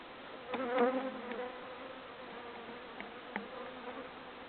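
Honey bees buzz around an opened hive during a spring inspection, a close, droning hum with shifting pitch and a few louder passes near the start.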